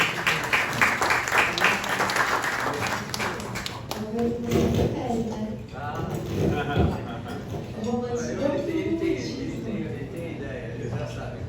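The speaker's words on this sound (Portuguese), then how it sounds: "Salve de palmas para a Juliana D'Agostini." Studio audience applause on a Brazilian television show, a broad sustained wash of clapping that swells and continues steadily, with voices and music-like tones under it.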